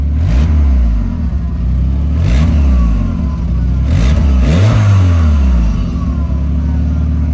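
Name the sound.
turbocharger spooling up while revving engine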